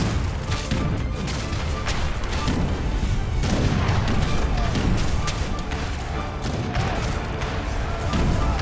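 Continuous volleys of musket fire and heavy cannon booms rumble together in a dense battle din from Age of Empires 3, with a voice talking over the fighting.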